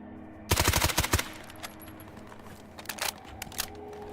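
Gunfire in a game set in an exclusion zone: a rapid close burst of about seven shots, then scattered quieter single shots and short bursts further off, with no talk.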